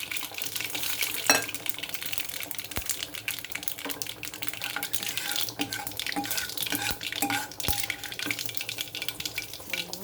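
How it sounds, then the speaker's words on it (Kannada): Spices and curry leaves sizzle and crackle in hot oil for tempering, with scattered sharp pops over a continuous hiss, close up and without speech. "ಸಾರಿಗೆ ಒಗ್ಗರಣೆ ಹಾಕ್ತಿದ್ದೀನಿ"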